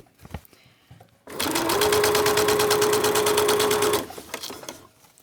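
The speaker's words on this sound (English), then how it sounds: "I'm just gently sewing this down in a straight line to the bottom." A sewing machine stitching fabric in a straight line with gold metallic top and bobbin thread, running in one loud, steady, rapid burst for a few seconds after some quiet handling, then stopping.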